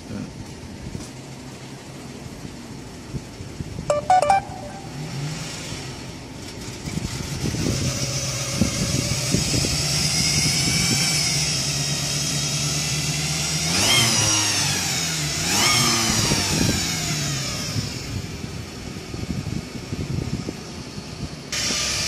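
A Suzuki APV engine revs as the accelerator is pressed, loud and close, with a steady raised drone that swells and falls and a hissing rush layered over it.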